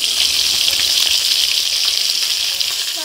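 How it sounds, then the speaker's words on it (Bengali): Koi fish frying in hot oil for a Bengali fish curry, giving a steady, loud, continuous sizzle with a bright crackle throughout and no talk. "মাছগুলো ভাজা হচ্ছে এখন"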